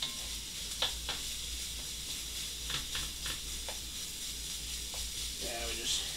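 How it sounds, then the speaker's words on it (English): Meat sizzles and renders in a pan for biscuits and gravy, giving a constant close hiss with scattered scraping stir strokes and small pops throughout. "we just stir that up a little bit, let that render down some"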